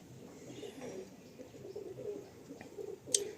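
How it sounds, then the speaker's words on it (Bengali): Pigeons of the Silegori breed coo softly in a loft, a low murmuring drone running steadily throughout with one brief sharper chirp near the end. "এটা ফুল সিলেগড়ির পায়রা"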